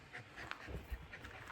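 Dogs Bruno and Israel playing together in the afternoon, panting close by with soft breathy puffs and a few low thumps and whimpers, no talk over it.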